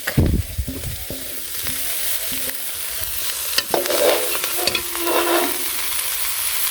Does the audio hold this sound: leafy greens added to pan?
yes